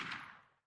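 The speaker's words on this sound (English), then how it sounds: "It was the dull roar of a gunshot, and then silence." A single gunshot sound effect from the video game 428: Shibuya Scramble: a loud, close blast that decays into silence in under a second.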